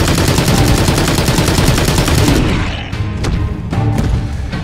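Rapid automatic gunfire rattles loud and continuous in the VR horror game Immortal Legacy, then breaks into a few separate, fainter shots and echoes.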